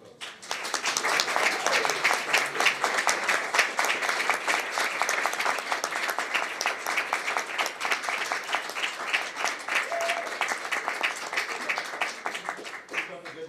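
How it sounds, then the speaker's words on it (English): Applause breaks out at a city council meeting to honor a championship team: steady, crisp clapping from a modest crowd, building after a quiet start and tapering slightly at the end, with a few voices faintly mixed in. "Congratulations, and another round of applause for these folks."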